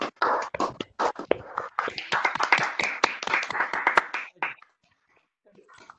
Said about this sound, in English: We'll give a round of clap to.